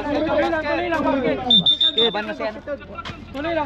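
A shot clock buzzer in a basketball game sounds as one sustained electronic tone lasting about half a second, over loud commentary and crowd noise.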